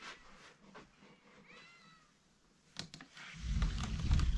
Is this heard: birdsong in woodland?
no